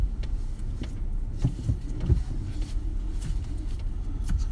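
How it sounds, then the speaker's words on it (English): A car rolls along close behind on a road, its low engine and tyre rumble steady and moderately loud for the whole stretch, with no talking. "Car behind me."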